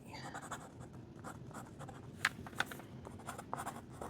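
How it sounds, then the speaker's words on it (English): A pen nib scratches across Midori paper in a steady run of soft, close strokes, with a few sharper ticks standing out briefly. "It's a little scratchier on this paper, but I think that's the nib."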